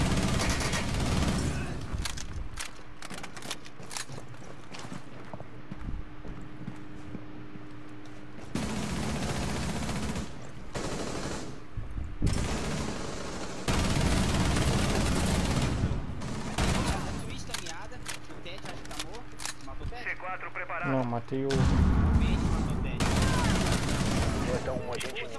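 Rapid bursts of gunfire from the video game Rainbow Six Siege crackle through a ranked match, with loud repeated volleys and clustered shots, while players talk over the action.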